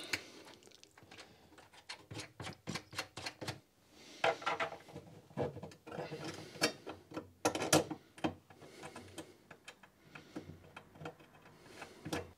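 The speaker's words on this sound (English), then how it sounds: "So we'll just tighten those up." Bolts tightened on an arcade machine cabinet, with quick runs of close ratcheting ticks and clicks in irregular bursts, interspersed with soft knocks and handling noise.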